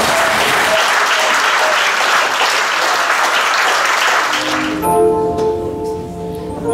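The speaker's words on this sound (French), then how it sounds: "On va acclamer mon Dieu." A church congregation bursts into loud, sustained applause and cheering, dense clapping from a crowd that fills the room for several seconds before giving way to music.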